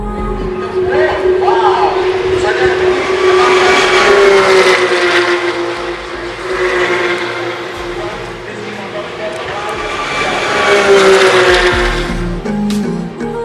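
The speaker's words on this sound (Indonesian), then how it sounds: "menyaksikan balapan mobil Porsche Sprint Challenge Indonesia" Porsche Sprint Challenge Indonesia race cars roar around the Mandalika circuit, engine notes rising and falling as cars pass at a distance, with crowd noise and people talking mixed in.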